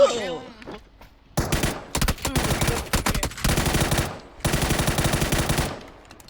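Rapid automatic gunfire in a video game comes in long, loud bursts separated by short pauses, with a voice briefly heard beforehand.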